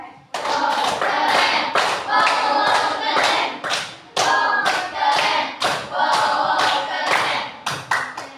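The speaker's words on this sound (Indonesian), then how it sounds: "kita kasih tepuk tangan ya. Oke, untuk kelompok 3." Classroom students clap rhythmically for group 3 during a mathematics lesson on the Pythagorean theorem, loud close bursts of patterned clapping in repeated phrases with short pauses between.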